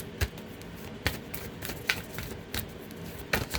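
Tarot cards are shuffled by hand at close range, giving soft riffling and sharp papery snaps that repeat at irregular intervals against a quiet room.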